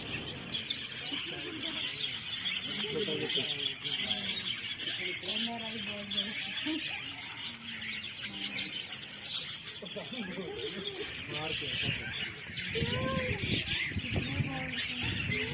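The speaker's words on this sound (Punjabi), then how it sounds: "ਛੋਟੀਆਂ ਛੋਟੀਆਂ ਚਿੜੀਆਂ ਆਈਆਂ ਰੰਗ ਬਰੰਗੀਆਂ ਰੱਖੀਆਂ ਹੋਈਆਂ ਨੇ ਤੇ ਆਵਾਜ਼ ਤੋਂ ਸੁਣ ਸਕਦੇ ਹੋ ਕਿੰਨੀ ਮਤਲਬ ਚੈਕਰੀਆਂ ਨੇ" Many small, colourful birds at a zoo aviary in Patiala chirping and squawking continuously, a dense busy chatter with people talking over it throughout.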